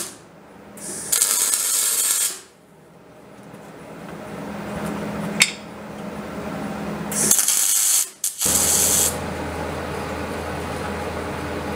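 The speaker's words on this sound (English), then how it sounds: "So what we'll do is just weld this down now so it's not going anywhere." Welding a butcher's block down onto a workbench gives several harsh, hissing crackles of a few seconds each, separated by quieter shop ambience and low rumble.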